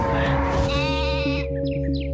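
Comic sheep bleating from a World of Warcraft commercial: one loud, wavering bleat over a steady low musical drone, with brief higher chirps at its tail.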